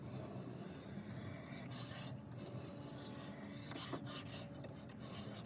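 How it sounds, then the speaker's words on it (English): A kitchen knife is drawn across a sharpening stone on a fixed-angle rotating sharpener kit, producing faint, repeated rasping strokes at a quiet, close level. "I'm gonna go ahead and sharpen this kitchen knife up."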